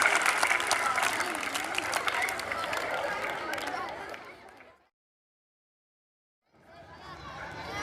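Audience applause at a school-level competition at an Urdu middle school: loud, dense clapping with crowd noise for about four seconds, then cutting to silence before the crowd and clapping resume.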